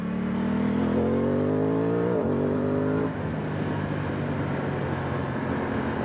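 Aprilia Tuono 660 Factory motorcycle engine held at a steady rising rev tone, then a sharp blipped downshift around the middle, settling into a lower, rougher idle-like drone with wind noise; close and loud, no talk.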